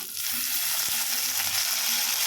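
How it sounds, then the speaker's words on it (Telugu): Onions fry in a pan with a loud, steady, broadband sizzle up close and faint stirring scrapes underneath, with no talking. "మంచిగా వేయించుకోవాలి ఆనియన్స్ కొంచెం వేగినాయి అనమాట"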